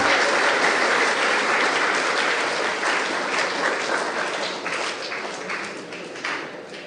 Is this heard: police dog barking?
no